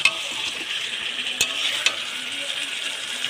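Pieces of pointed gourd (potol) sizzle steadily in a hot pan while being stirred, with a few sharp spatula clicks against the metal, close up and fairly loud in a village kitchen.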